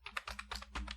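Rapid, uneven keystrokes on a computer keyboard while Python code is typed, close and fairly soft, with short bursts of clicks and no voice over them.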